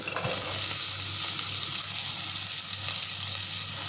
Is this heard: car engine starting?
no